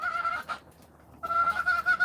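Several chickens in a backyard coop cluck in two close bursts, a brief quiet gap between them, with no voices over the calls.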